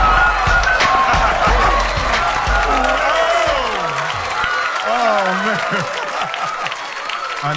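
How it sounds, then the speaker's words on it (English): A comedy club audience applauds loudly as a gentleman is welcomed on stage, with dense clapping and some cheering, joined by muffled crowd noise and a voice speaking or shouting partway through. "please give this next gentleman a warm round of applause"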